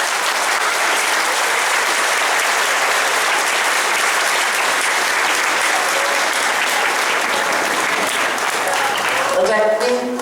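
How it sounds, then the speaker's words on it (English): Loud, sustained applause from an audience at a school's 15th August Independence Day celebration, a dense steady clatter of clapping for about ten seconds, with a voice starting just as it ends. "Can we have a round of concluding applause?"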